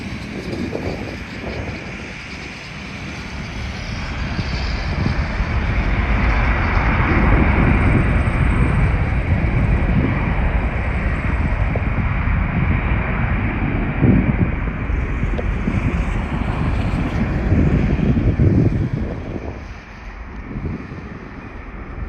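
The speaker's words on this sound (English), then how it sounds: "There goes the MD-11." A FedEx McDonnell Douglas MD-11 takes off at Toronto airport: a loud, steady jet roar holds for about eighteen seconds and then eases off, with wind buffeting the microphone.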